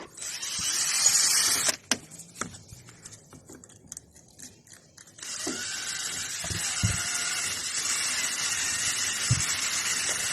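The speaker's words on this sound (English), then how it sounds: "spray some penetrating fluid on the threads and then attack it with a wire brush" A drill-mounted wire brush cleaning the threads of a car drop link whirs and scrubs against metal in two loud bursts, with a pause of scattered clicks and knocks between them.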